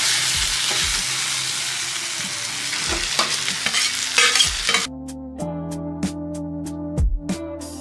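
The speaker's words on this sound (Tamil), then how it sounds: "இப்போ அரைச்சி வச்சிருக்க இந்த சிக்கன் எடுத்து இதில் போட்டு வதக்கணும்." Ground boneless chicken sautés in a pan for a Tamil-style gravy, sizzling loudly while a utensil stirs and scrapes in repeated strokes, with clinks against the pan in the latter half and no talking.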